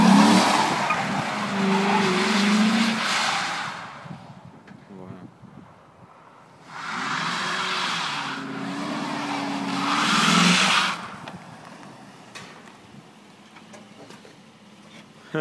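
A Chevrolet Silverado pickup on fresh tires spins donuts in snow, with two long roaring bursts of engine and skidding, spinning tires, loud and close, separated by a quieter lull.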